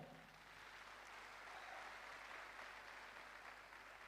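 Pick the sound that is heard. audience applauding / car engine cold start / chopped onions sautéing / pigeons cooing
audience applauding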